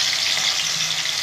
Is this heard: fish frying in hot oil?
yes